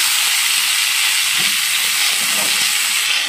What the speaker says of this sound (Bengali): এবার গিমে শাকটা দিয়ে দিলাম